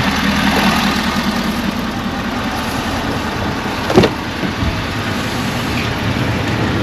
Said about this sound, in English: Now we're going to turn the AC off and see if the clutch stops spinning.